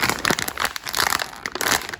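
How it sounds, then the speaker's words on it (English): A bag being crumpled in a kitchen for percussion, giving bursts of crinkling and crackling that come in uneven clusters, close and fairly loud, with no voices. "Oh, let's get some crumpling action."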